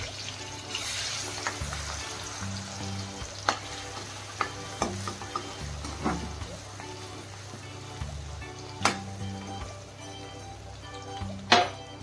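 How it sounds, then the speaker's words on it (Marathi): Ginger, garlic and green chili paste goes into a pan of crackling cumin for ragda pattice, giving a soft continuous sizzle with occasional sharp pops and stirring scrapes throughout. "जिरे मस्त फुललेले आहेत। त्यामध्ये टाकूत आपण पेस्ट, अद्रक, लसूण आणि हिरवी मिरचीची पेस्ट"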